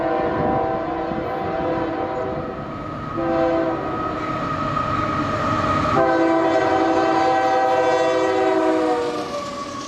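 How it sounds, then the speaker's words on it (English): An empty coal train led by a GE AC44CW locomotive rolls past with a steady rumble of wheels on track while the horn sounds in long, loud blasts, the last one swelling closer. "A single unit, GE AC44CW number 6506, leads this empty coal train of utility company Entergy"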